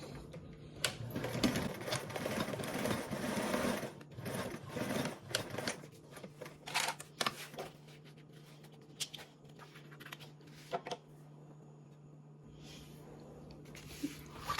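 A sewing machine runs a seam across the bottom of a bag, its dense stitching strongest at the start and then breaking into intermittent bursts and clicks of fabric handling, close and moderately quiet.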